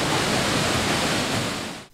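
Waterfall in the Andes Mountains rushing in a dense, steady broadband roar, heard close and loud without a break, cutting off at the end.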